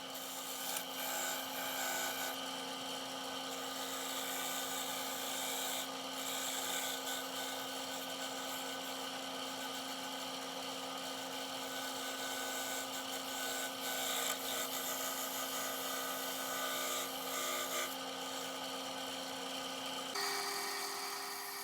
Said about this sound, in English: I'm going to use a thin parting tool.